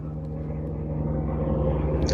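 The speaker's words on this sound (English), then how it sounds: "That's a helicopter going overhead." A low, steady mechanical rumble with a droning hum, like a helicopter passing overhead at a distance, constant throughout with no voices.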